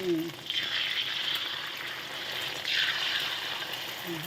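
A Thai omelette with cha-om fries in a hot pan, giving a continuous loud sizzle with two brighter surges. A voice is heard briefly at the start and end.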